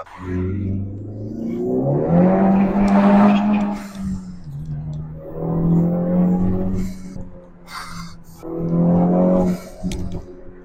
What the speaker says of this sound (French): Là, on entend le turbo beaucoup plus.